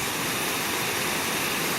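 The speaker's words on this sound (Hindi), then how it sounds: "इसकी आवाज़ जो आ रही है ना यार, वो ज़बरदस्त है। पानी की आवाज़।" A small waterfall in Nepal roars in a steady, dense wash of flowing water, close and loud with no voices over it.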